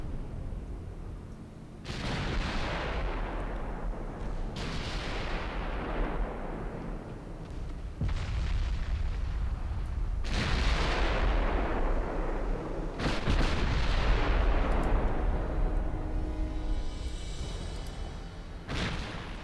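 Naval guns firing in the Ultimate Admiral Dreadnoughts warship game, a series of about six heavy booming salvos spaced a few seconds apart, each decaying into a long rumbling tail, loud with no talk.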